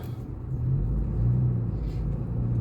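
A car driving toward a town centre in Poland, a steady low engine rumble with a slight rise in revs, heard from inside the cabin with no talk.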